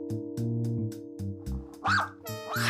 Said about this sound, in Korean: 한참 동안 꼬모가 짖는 걸 멈추지 않는데요